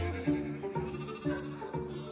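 Sheep bleat at Mont Saint-Michel, several wavering calls one after another, close and moderately loud.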